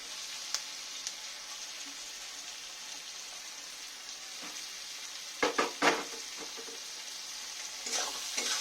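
Cleaned prawns hit a pan of spice paste for prawn posto, a continuous close frying sizzle with a few sharp spatula clatters and scrapes partway through.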